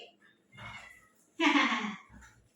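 A cat named Shiro meows once, a short clear mid-pitched call, close by and indoors, after soft murmuring by a person nearby.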